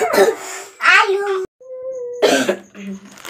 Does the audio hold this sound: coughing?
yes